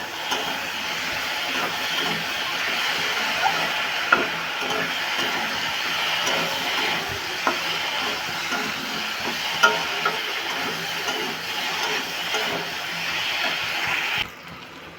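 Spiced masala for a fish curry with taro and potato sautés in a pan, giving a steady, dense sizzle with small crackles that runs without a break before cutting off sharply just before the end.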